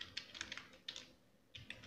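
Quick, light keystrokes on a computer keyboard come in two short bursts of irregular clicks, close and fairly quiet, with a brief pause between them.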